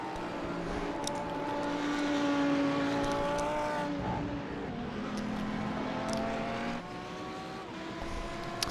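A virtual race car at Watkins Glen roars past with a sustained high engine whine that rises, holds, then drops with gear shifts, loud and near, with other cars faintly audible behind.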